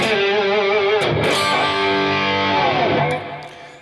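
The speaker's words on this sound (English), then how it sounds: "the Empress Effects reverb for that nice reverb delay washy thing that just makes the guitar so much fun to play" Distorted electric guitar plays sustained notes and bends from a solo through an Empress Effects reverb, with a washy reverb and delay tail, fading out at the end.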